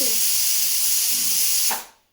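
A pressure cooker whistle: a loud, steady steam hiss rushes for nearly two seconds, then cuts off abruptly, with a brief rising squeal as it stops.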